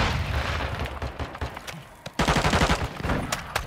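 Gunfire in Call of Duty: Modern Warfare II, with dense rapid bursts of automatic shots crackling loud and near, a short lull, then another fast, sustained volley.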